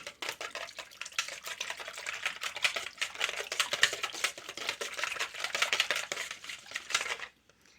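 A spoon stirs strawberry cake batter with vanilla in a bowl, giving rapid, continuous scraping and clicking strokes close up at a brisk, uneven rhythm that stop abruptly, with no speech.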